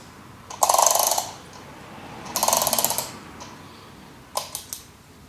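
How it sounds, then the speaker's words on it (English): Comandante C40 hand coffee grinder being turned to adjust its grind setting: two bursts of dense, fast ratcheting clicks, then a few separate sharp clicks near the end, close and clear with no talking. "I'm going to go for 10 clicks just to show you what that looks like."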